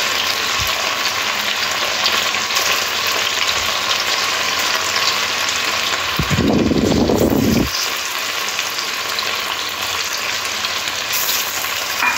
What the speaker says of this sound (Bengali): চিকেনের টুকরোগুলো তেলের মধ্যে দিয়ে একটু ভেজে নেব